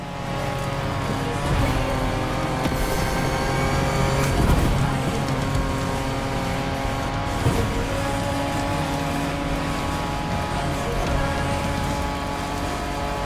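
A car driving hard in The Crew Motorfest on Xbox Series X, steady engine drone with shifting revs and occasional tire squeal, loud and continuous with game music layered in.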